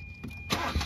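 A car engine cranks and catches during a driving lesson on an uphill slope, a short loud burst of starter and engine noise rising abruptly from a quiet cabin.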